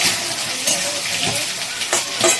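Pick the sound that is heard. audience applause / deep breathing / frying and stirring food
frying and stirring food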